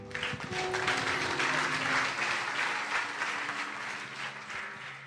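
A church congregation applauds the Lord after a prayer, sustained clapping from many hands rolling evenly for several seconds at moderate volume.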